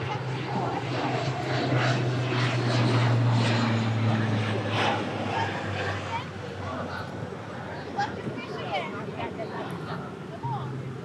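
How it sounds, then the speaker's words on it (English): Propeller airplane passing overhead at an outdoor barbecue spot in Oahu, Hawaii, a steady droning engine hum that stays in the background while people talk over it throughout. "Even the plane wanted to get a flyover."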